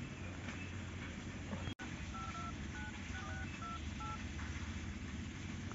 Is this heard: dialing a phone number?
yes